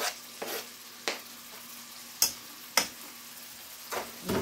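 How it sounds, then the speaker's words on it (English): Food frying in a pan with garlic and seasoning, a quiet steady sizzle broken by sharp scraping clicks as a spoon stirs it every second or so. "Just gonna stir that till it gets golden brown."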